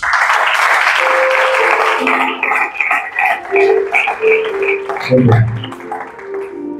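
A church congregation bursts into sustained applause and cheering during a worship service, loud and dense at first, then breaking into scattered voices and claps.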